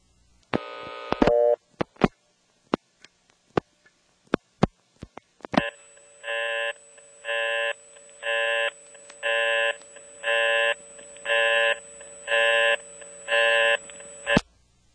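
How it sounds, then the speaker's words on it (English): A rapid burst of dial pulses and scattered clicks at a step-by-step telephone exchange in Windsor, North Carolina, then a harsh buzzing busy tone from an invalid code repeating in even on-off pulses, about nine times, under a steady faint whine. "if you dial 1 plus an invalid code, you get a very distinctive busy signal"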